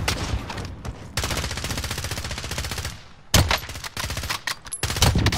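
Bullfrog submachine gun in Call of Duty: Modern Warfare firing long rapid automatic bursts, loud and close, with a brief pause before more sustained strings of gunfire.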